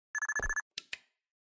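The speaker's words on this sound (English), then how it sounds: "What button do I press to answer my phone?" A phone rings in a horror video game, a run of six quick electronic trill bursts followed by two short clicky tones, clear and fairly close in an otherwise silent space.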